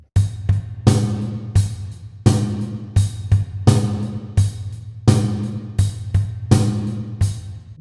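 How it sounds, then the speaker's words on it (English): A heavy rock drum beat with hard, punchy kick and snare hits landing in a steady, driving pattern, loud and close with crashing cymbals. "Most rock drummers would be heavy on the downbeat and it would sound like this."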